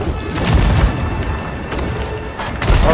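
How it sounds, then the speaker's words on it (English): Cannon barrage from ship cannons in Sea of Thieves, a dense run of loud booming blasts and rumbling impacts overlapping through the whole stretch, with heavier bursts near the start and end. "Are you ready for another cannonball barrage?"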